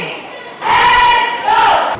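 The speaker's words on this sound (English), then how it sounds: "cheering" Crowd of Houstonians cheering at an outdoor Houston parks health event, a burst of loud shouts and whoops rising suddenly, dipping briefly, then swelling again.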